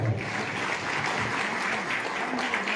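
A crowd applauds to welcome a guest on his birthday at a live Bhojpuri stage show in Haridwar, a dense, even roar of clapping, with a voice briefly heard underneath.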